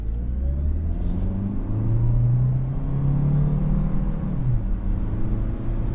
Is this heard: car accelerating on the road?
yes